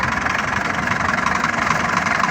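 A tractor engine drives a brick-making machine at a Punjab brick kiln, its steady low rumble running loud and close without a break, a continuous mechanical drone with no talking.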